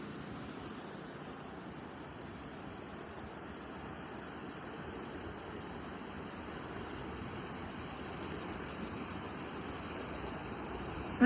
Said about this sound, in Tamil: தண்ணி எப்படி போகுதுன்னு பாருங்கள் மண் கலரில் தான் தண்ணி இங்கே கலக்குது